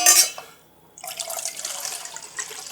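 Homemade kombucha being poured into a bottle, a brief burst of splashing liquid, a short pause, then a steady, close gurgling stream of pouring that continues to the end, with no speech.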